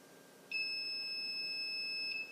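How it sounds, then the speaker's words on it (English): An Ltech T4 device gives a single sustained electronic beep while its reset button is held down, a steady high tone lasting about a second and a half, close and clear against a quiet background with no talking. "So there's the second beep."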